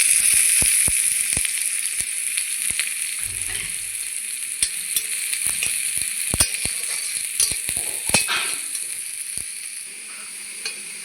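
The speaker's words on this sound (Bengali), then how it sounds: "তো ভেজে নেব সবগুলো।" Chopped chilli, garlic, ginger and onion fry in oil in a wok, giving a steady loud sizzle throughout, with frequent sharp clicks and scrapes from stirring and no talk.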